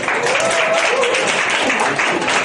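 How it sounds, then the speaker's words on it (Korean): A class of students applauding during a human-centered design lecture, steady continuous clapping from a roomful of people filling the whole stretch at close range. "박수 한번 쳐주세요"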